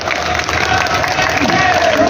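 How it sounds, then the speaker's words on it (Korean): Crowd applause at a Wednesday street demonstration in Korea, a steady, fairly loud spread of clapping and murmuring from many people gathered outdoors, with some voices mixed in. "서로 손 들어주고 박수 쳐주세요."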